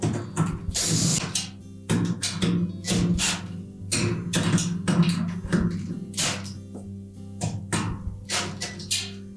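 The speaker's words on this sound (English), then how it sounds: "make sure we have all 6 of those screws tightened securely" A ratchet tightens screws on a Whirlpool washer during brake spring repair, giving rapid repeated clicking bursts in quick succession, close and fairly loud, with no talking.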